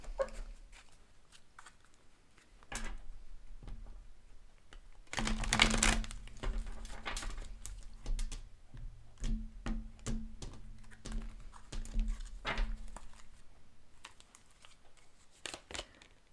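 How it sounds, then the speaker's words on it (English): Tarot cards shuffled and drawn close up, with a run of soft riffling and flicking card sounds, one louder burst of shuffling, then scattered taps as cards are laid down, quiet and without speech. "Let's pull a preview card for you"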